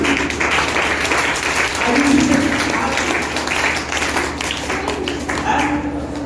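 An audience at a training session in India applauds with a steady, dense clatter of clapping that holds at a fairly even loudness throughout, with a background murmur of voices.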